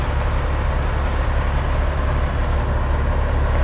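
A dense, steady low rumble of heavy traffic near the George Washington Bridge, a truck engine droning loud and constant with no clear pass-by swell.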